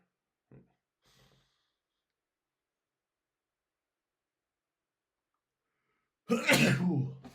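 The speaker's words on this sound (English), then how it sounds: "I needed to sneeze." A single loud, explosive sneeze bursts out near the end after several seconds of near silence, preceded by a couple of faint breathy sounds.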